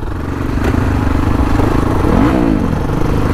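A motorcycle engine with its original stock silencer idles and runs steadily, a loud close low throb with a brief rise in revs partway through.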